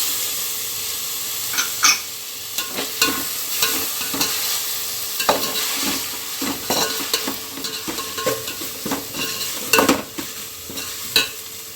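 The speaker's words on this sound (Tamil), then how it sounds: "கொத்தமல்லி, புதினா தழை போட்டு ஒரு 1 minute ஃப்ரை பண்ணணும்" Tomatoes with coriander and mint sauté for mushroom biryani, giving a loud, constant sizzle broken by frequent clattering stirs and scrapes of the spoon against the pan. It is heard up close, with no talking.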